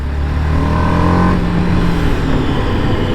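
A TVS Apache RR 310 BS6 motorcycle in urban mode rides through city streets, its engine droning steadily close to the microphone with a brief rise in revs before settling back, loud and continuous with no voices.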